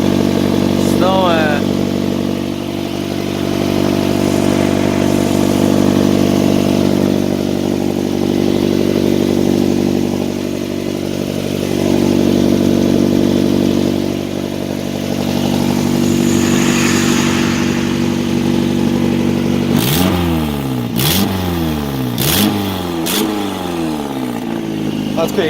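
A loud straight-piped car engine idles with a steady low rumble, then blips and revs sharply several times near the end, with a person talking over it.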